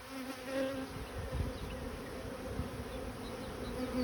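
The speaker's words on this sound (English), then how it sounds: "these bees are defensive" Defensive honeybees buzz around an opened hive during mite treatment and routine maintenance, a continuous droning hum with wavering pitch as bees fly close by, steady and fairly quiet throughout.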